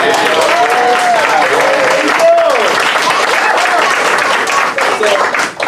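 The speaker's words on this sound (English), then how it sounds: "you guys deserve a round of applause" Loud, dense applause from a crowd at an end-of-season ceremony for a 7U youth baseball team, continuous clapping with cheering tones mixed in, dipping slightly near the end.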